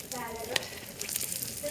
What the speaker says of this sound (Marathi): तेल टाकतोय.